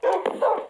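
Dogs in a video game let out a quick burst of two or three short, loud yips and barks close up, with no talk.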